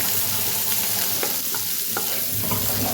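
Chopped onion and chilies crackle and hiss continuously in a frying pan, a close, even sizzle with faint scraping ticks as they are stirred.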